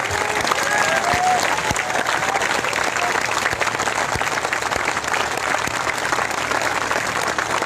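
Thunderous, continuous applause fills a political rally in Banaskantha, Gujarat, a thick wall of clapping hands with a few cheering voices rising briefly early on.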